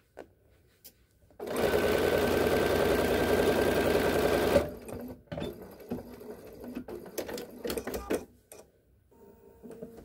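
A sewing machine stitches a garment side seam in one steady, loud burst of about three seconds, then stops, followed by fabric handling, clicks and rustling.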